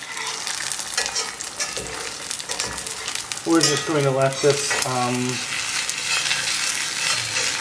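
Food fries in a non-stick pan with a steady, loud, hissing sizzle throughout, and a short stretch of tonal, voice-like sound rises over it midway.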